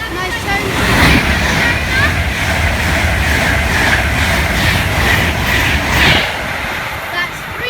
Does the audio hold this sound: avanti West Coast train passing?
yes